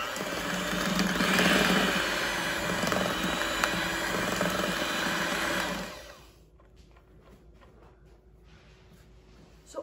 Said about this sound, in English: we need to beat the mixture with egg beaters